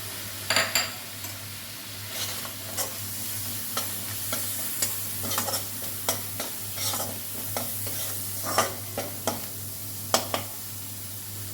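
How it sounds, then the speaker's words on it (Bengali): Spice paste with cumin powder, oil separating, sizzles in a pan for a rohu fish curry while a spatula stirs it in repeated scraping strokes over a low steady hum, close and alone without speech. "মশলা আমার কষানো হয়ে গেছে।"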